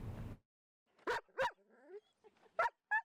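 Search and rescue dogs bark at an outdoor training session, a handful of sharp barks with short yips and whimpers between them, fairly close and with no talk over them.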